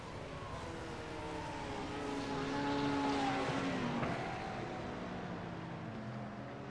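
Race cars in a racing video game drive the Suzuka circuit, their engines a steady droning roar with one engine note rising and then falling as a car passes, under a constant bed of noise.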